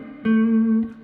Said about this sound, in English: Playing just to the root note, which sounds a bit like this in the A,